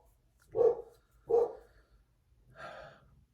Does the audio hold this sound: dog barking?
yes